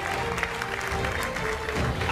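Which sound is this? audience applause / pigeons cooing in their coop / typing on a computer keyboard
audience applause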